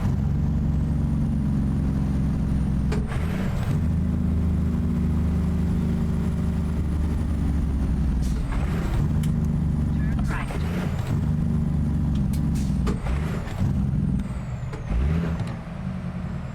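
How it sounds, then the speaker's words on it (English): A Cummins ISX CM870 engine brake on a Kenworth truck in American Truck Simulator, heard from inside the cab as a steady loud low drone through a long deceleration, with a few sharper bursts and knocks partway through. "We got to check the Jake on a long decel here."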